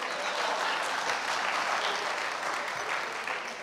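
An audience claps at a poetry recital, dense and steady applause from many hands filling the room at an even, loud level throughout.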